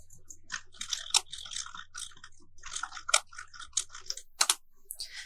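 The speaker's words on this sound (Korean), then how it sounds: "여기까지 타이핑을 했고요" Rapid typing on a computer keyboard during spreadsheet data entry, with dense, uneven bursts of close, crisp key clacks and a few louder strikes near the end.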